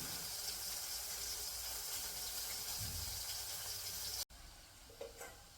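Three or four pieces of fish frying in oil make a continuous soft hiss and sizzle that cuts off abruptly, leaving a quieter stretch with a few faint knocks.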